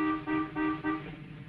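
A car horn honks three times in quick succession, loud and close, each blast a short bright toot followed by a fading tail.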